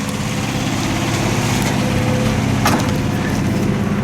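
WWII warbird aircraft fly overhead in Denver, Colorado, giving a steady, moderately loud piston-engine drone that builds briefly near the middle of the pass.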